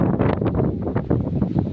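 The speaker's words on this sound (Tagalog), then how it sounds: "Ang hangin yun." Steady wind near Mount Isarog at a palm resort buffets the microphone, a dense rumbling roar that rises and falls in gusts throughout.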